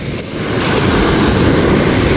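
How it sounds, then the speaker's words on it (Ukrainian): Big ocean waves surge loudly onto the shore of a Canadian island in British Columbia, a close, roaring wash of surf that builds and holds, with wind buffeting the microphone. "О, ідуть, ідуть, воно хвилі бішені."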